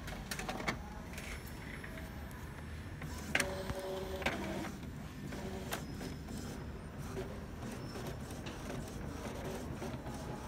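An Epson L3110 inkjet printer runs its print head cleaning cycle, a faint continuous mechanical hum with scattered clicks and ticks, heard close with no talking.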